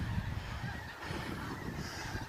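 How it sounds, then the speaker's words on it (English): Dense honking of many snow geese near Higginsville, Missouri, a constant distant chorus of overlapping calls with no pauses, outdoors. "You ever seen so many snow geese?"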